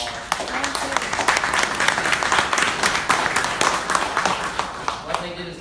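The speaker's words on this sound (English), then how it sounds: "so please a round of applause." Sustained applause from an indoor crowd at a club event, dense clapping at steady loudness throughout, with some voices mixed in.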